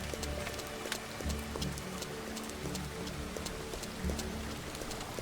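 Steady, dense rain patters across surfaces in the farming game Farmer's Dynasty, with a continuous wash and scattered sharper drops, joined by faint low clopping and rumbling in the background.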